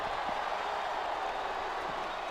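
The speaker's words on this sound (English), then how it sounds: "Sounds like this crowd's got something on their minds, King." A broad, steady video game wrestling crowd roar fills the whole stretch at an even level, a dense wash of cheering with no single voice standing out.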